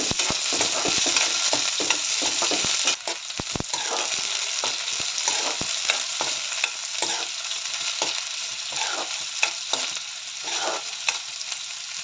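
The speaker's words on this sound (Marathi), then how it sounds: "नंतर उभा शिरलेला कांदा घालायचा तेलामध्ये त्याला परतून घ्यायचं" Lengthwise-sliced onion with curry leaves fries in hot oil in a pan, a steady sizzle running throughout, broken by repeated scraping and clicking as a spatula stirs the pieces.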